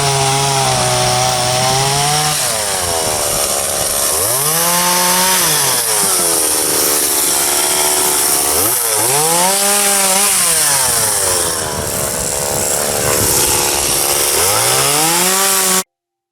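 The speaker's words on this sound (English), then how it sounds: "This chainsaw doesn't want to work anymore." A chainsaw revs and bogs repeatedly while cutting old-growth white oak, its engine pitch rising and falling in long strained cycles, loud and close with no talking.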